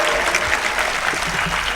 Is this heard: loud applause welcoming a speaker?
yes